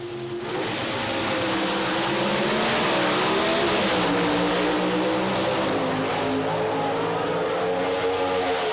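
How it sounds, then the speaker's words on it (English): Pro Stock drag race cars launch and roar down the strip at a 1988 drag race, a loud, sustained engine blare rising in pitch as they accelerate and holding at full volume throughout. "The closest Pro Stock race ever."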